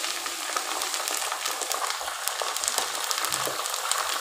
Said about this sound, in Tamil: இப்போ வந்து இதில் கொஞ்சம் போல் கருவேப்பிலை கொத்து போட்டுக்கலாம். அதையும் சேர்த்து கூடவே பொரிச்சு எடுத்துக்கலாம்.